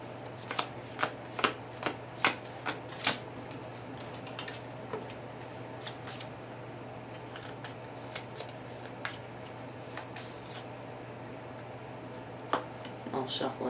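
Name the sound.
shuffling a deck of playing cards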